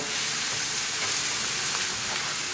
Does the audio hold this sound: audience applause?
no